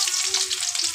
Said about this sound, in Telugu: నూనె బాగా వేడైపోయింది. ఇంకా ఉల్లిగడ్డ